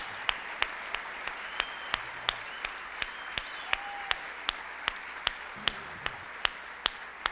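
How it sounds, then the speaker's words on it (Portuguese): Light, scattered clapping from a church congregation honoring small group leaders, a few distinct hand claps spaced at a steady rhythm over a quiet room, with faint background murmurs. "Essa turma merece aplauso, gente."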